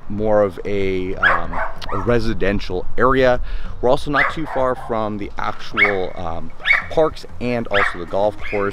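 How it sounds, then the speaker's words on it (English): Dogs bark behind a person speaking outdoors in a residential neighbourhood, their yips and barks mixed into and partly masked by continuous talk. "Sorry about the dogs there behind me"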